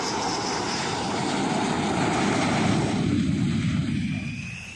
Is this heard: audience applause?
no